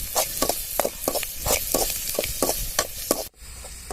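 Crushed ginger and garlic sizzle in a hot pan for a pepper chicken dish while a spoon scrapes and stirs in quick repeated strokes, up close, until the stirring and frying stop abruptly near the end.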